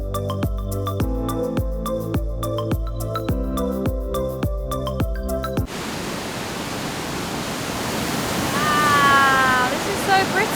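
Aling Aling waterfall in Bali roars as a loud, close, constant wash of falling water, following a stretch of rhythmic music, with a few brief high chirping sounds near the end.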